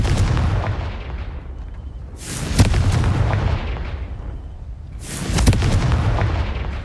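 Two heavy booming blasts from the Confringo explosion spell in Hogwarts Legacy ring out a few seconds apart, each bursting loudly and then fading into a rumbling roar.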